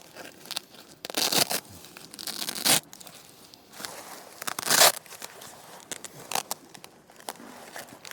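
Velcro strips on custom thermal blinds for a VW Crafter camper are peeled apart with the fluffy loop side coming free, producing several loud ripping bursts separated by quieter rustling and handling noise.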